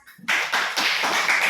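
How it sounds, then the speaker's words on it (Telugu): A classroom group claps together in a dense burst of rapid hand claps, loud and close, continuing steadily for over a second after a brief quiet start. "give him claps"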